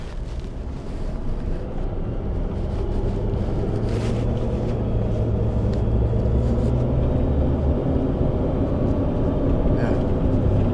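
A truck fitted with massive tires drives along, giving a steady loud rumble of engine and tire roar with wind buffeting throughout, close and continuous.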